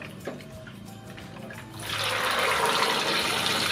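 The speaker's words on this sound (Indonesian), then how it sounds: "Selanjutnya kita akan goreng kacangnya." A loud, steady sizzle and hiss of peanuts frying in hot oil starts suddenly partway through and continues, with a few faint clicks before it.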